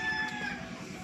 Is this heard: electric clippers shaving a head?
no